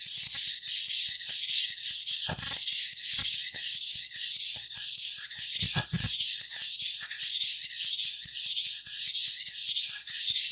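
A chef's knife is stroked across a whetstone in quick, steady scraping passes, a dense rhythmic rasp that stays close and continuous, broken by a couple of brief heavier knocks.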